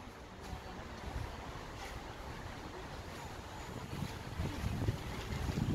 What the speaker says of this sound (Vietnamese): Đấy, gió đấy.